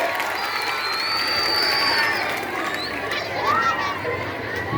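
A school farewell and prize ceremony crowd: children's voices, cheering and scattered clapping blend into a busy hubbub, with applause only partly standing out from the chatter.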